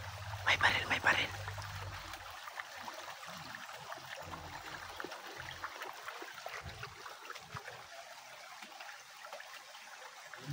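Steady water trickling and flowing nearby, with brief low voices and a bump near the start, then the stream continues alone.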